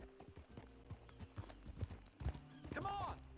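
A horse's hooves clip-clop in an irregular series of thuds on the ground, fairly quiet and close, followed by a brief whinny-like cry near the end.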